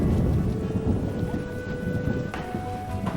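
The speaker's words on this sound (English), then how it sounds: "Rain's giving me a headache." Video game rain and thunder in The Witcher: steady, heavy rainfall with a low rumbling roar underneath, continuous and fairly loud throughout, with a faint tonal hum in the background.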